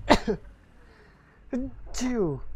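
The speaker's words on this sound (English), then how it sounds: "I know I have to sneeze." A single sharp, loud sneeze close by, followed by a short pause and then some brief speech.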